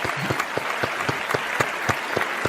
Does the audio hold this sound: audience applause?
yes